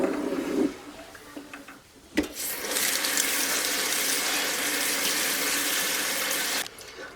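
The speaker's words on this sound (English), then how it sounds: "I'm just going to give these a quick rinse to get some of that salt off so they're not quite so salty" Tap water runs steadily over canned carrots being rinsed, a broad continuous splashing rush after a brief knock and a pause, close and fairly loud, ending abruptly when the flow stops.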